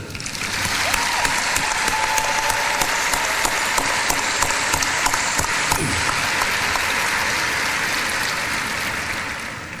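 Graduates at a university commencement clap together in a loud, dense, sustained ovation with a few cheers mixed in, holding strong throughout before easing slightly at the end.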